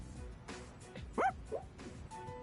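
Koromaru, a dog in the video game Persona 3 Reload, giving a short bark and a softer yip in close succession over a low game background.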